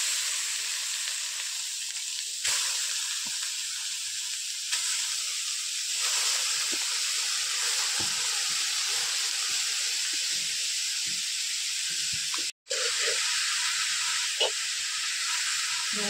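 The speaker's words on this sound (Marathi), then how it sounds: "मी आता ह्यो गाजराचो किस या तुपात फोडणीत टाकते." Grated carrot hitting hot ghee tempering for Konkani-style carrot halwa gives a steady, close sizzling hiss that runs on evenly with one brief dropout and no talk.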